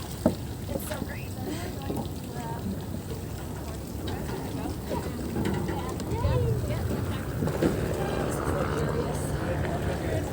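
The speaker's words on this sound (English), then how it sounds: "Look at that Mercury engine." A boat with a Mercury outboard engine running on a river with oyster cages, a steady droning motor with wind and water noise, and people talking over it throughout.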